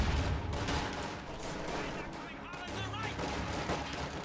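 Machine gun fire rattles through a strategy video game battle between squads of riflemen and grenadiers, dense overlapping gunfire and explosions sustained throughout at a steady loud level.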